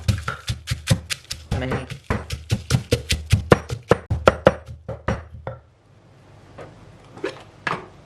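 Garlic and dried chillies pounded in a mortar for Thai som tam: a steady run of close, sharp thuds for about five seconds, then a pause and a few scattered knocks, with some talking.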